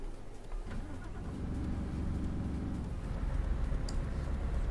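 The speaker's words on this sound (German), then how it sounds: "Das ist Motor." A car engine runs steadily with a low rumbling drone that grows slightly louder and fuller partway through, continuous throughout with no talking.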